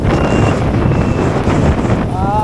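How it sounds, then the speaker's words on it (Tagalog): Strong wind buffets the microphone in a steady, loud roar that fills the whole stretch, with a faint tonal whistle near the end, while riding a motorcycle near Los Baños, Laguna. "Lakas ng hangin."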